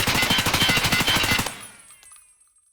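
Assault rifle fire in the shooter game Escape from Tarkov: a loud, rapid automatic burst of evenly spaced shots lasting about a second and a half, then a ringing tail that fades to near silence.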